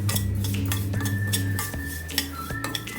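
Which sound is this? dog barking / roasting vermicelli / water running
roasting vermicelli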